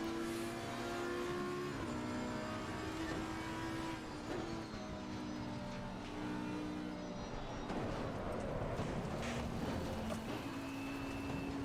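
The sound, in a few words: race cars driving in the video game Assetto Corsa Competizione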